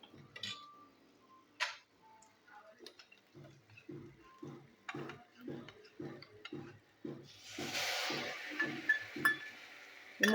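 A spoon stirs ground coriander, cumin, chili and turmeric masala in a pan while cooking chicken lajawab, making steady rhythmic scraping taps. A hissing sizzle swells toward the end.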